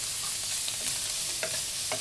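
Dried fish and onion stir-fried with garlic paste in a pan, a close steady sizzle with scraping stirs and a few light clinks of the spoon against the pan.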